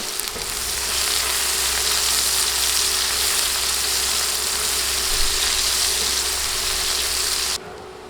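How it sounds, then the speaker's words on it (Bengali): Onions sizzle steadily in a hot pan as they are stirred for a chicken curry, a broad continuous hiss with a low hum beneath, close and fairly loud, cutting off abruptly near the end. "নেড়ে নেড়ে পেঁয়াজ কয়েক মিনিট ভেজে নিব"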